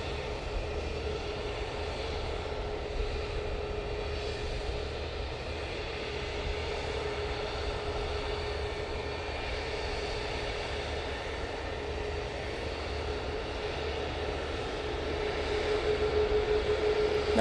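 Distant jet engine noise drifts across Manchester Airport after an Emirates airliner takes off, a faint, steady rumble with a low hum that swells a little toward the end; nobody speaks.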